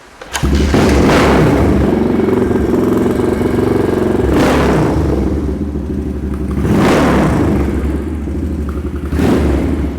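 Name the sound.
Yamaha SR500 street tracker motorcycle engine starting and revving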